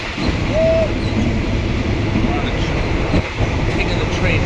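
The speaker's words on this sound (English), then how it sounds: "Taking the train back." Steady rumble of a passenger train ride in Thailand heading back from Ayutthaya, a continuous low rolling drone with a brief squeal early on and faint chatter of people in the carriage.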